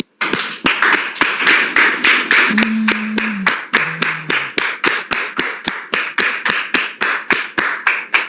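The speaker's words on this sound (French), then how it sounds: "On le reçoit maintenant sous vos applaudissements." A studio audience welcomes a guest with rhythmic clapping in unison, sharp regular beats repeating steadily throughout, with two brief low sustained tones sounding partway through.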